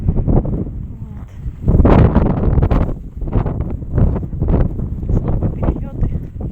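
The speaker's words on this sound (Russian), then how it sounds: "На улице метель." Blizzard wind gusts roaring outdoors in Altai Krai during snow clearing, a loud, rumbling wind-noise buffeting that swells around two seconds and stays steady through the clip.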